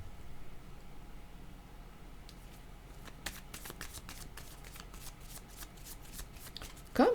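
Tarot cards being shuffled during a card reading: after a few quiet seconds, brisk papery riffling and slapping continue up close with no talking.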